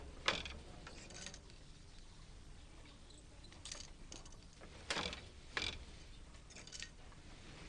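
Handloom weaving in Manipur with a throw shuttle: rhythmic wooden clacks and knocks of the loom recur every second or so over a low, steady background, fairly faint and without voices.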